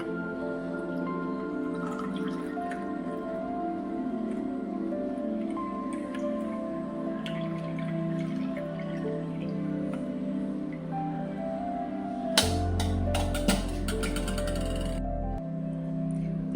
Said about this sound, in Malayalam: ഇനി നമുക്ക് അരിച്ച് ഗ്ലാസ്സിലേക്ക് ഒഴിക്കാം.